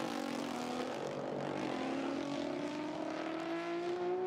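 A high-revving 6.5-litre V12 race car engine roars steadily during a GT1 demonstration race, its pitch gradually rising as it accelerates, loud and close throughout with no talking.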